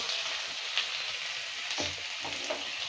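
Chopped garlic frying in hot oil after soybeans, a steady close sizzle with faint crackles and occasional stirring sounds, no voices.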